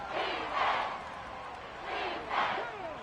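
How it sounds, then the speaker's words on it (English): A football video game crowd in a Commanders versus Packers matchup roars in two swelling waves of cheering and chanting, moderately loud and continuous. "A big play here. Crowd on their feet."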